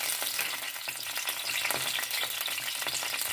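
Garlic and chili paste fry in hot cooking oil in a frying pan, giving a crackling sizzle broken by stirring scrapes, close and continuous, with no talking.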